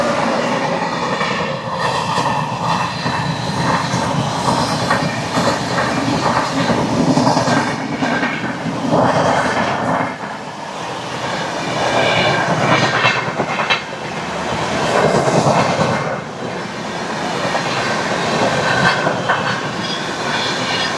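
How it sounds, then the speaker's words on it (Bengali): Kanchanjangha Express train pulling out of Falakata station, with a continuous loud rumble, rhythmic clickety-clack of wheels over rail joints, and swelling bursts of clatter as it gathers speed. "7:50-এ কিন্তু ট্রেন ফালাকাটা স্টেশন ছেড়ে বেরিয়ে যাচ্ছে"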